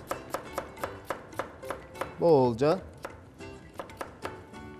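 Knife chopping potatoes into small cubes on a cutting board, a quick run of crisp evenly spaced taps, close and distinct, broken briefly by a spoken word in the middle.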